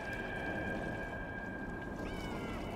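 A video game cat meows in a sustained, drawn-out tone over a steady background hum, with a short rising meow near the end.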